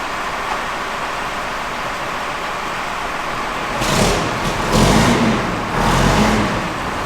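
A jump-started diesel engine on farm machinery runs with a steady rumbling idle, then revs up in a few swelling bursts near the end.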